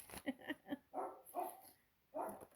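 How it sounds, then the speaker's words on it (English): A dog barks repeatedly, a quick run of three short yips followed by a few fuller barks, fairly faint and alone. "That's Twinkie barking at Nay Nay."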